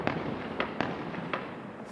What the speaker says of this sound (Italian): un altro tipo di fuoco d'artificio.